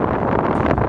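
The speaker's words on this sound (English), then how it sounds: "It's very windy, so I hope you can hear me" Strong gusting wind buffeting the microphone on a high bouncing bridge in mountain country, a dense loud rumbling roar that holds steady for a brief moment with no clear voice.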